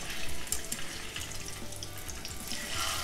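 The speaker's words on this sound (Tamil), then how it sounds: "இப்போ இதை வந்து நம்ம பொரிச்சிடலாம்." Chicken seekh kebabs frying in a pan give a steady, hissing, watery sizzle that runs evenly throughout, close and moderately loud, with no voices.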